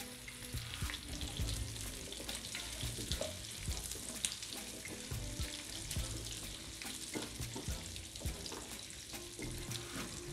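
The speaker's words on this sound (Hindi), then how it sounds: "हाफ़ कप भी मैं इसमें डालूँगी प्याज। हम इनको सोते होने देते हैं।" Onions with bell pepper sauté over a slow flame in a pan for chicken Manchurian, a busy close sizzle broken by scattered crackles and stirring clatter, with no one speaking.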